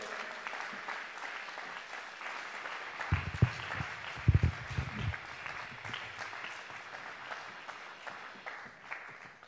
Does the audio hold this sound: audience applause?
yes